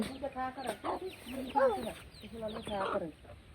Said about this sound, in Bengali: এটা পাখি না, এটা মুরগি।